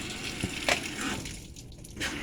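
A GE washing machine fills with water, giving a continuous rushing flow with some gurgles and slight shifts in level, fairly close with no voices.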